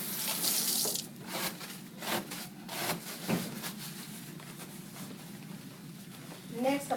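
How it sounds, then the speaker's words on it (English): Hands being washed under a running sink tap: a steady close rush of water with rubbing and splashing shifts, fairly loud throughout, with no speech. "First, I'm going to wash my hands."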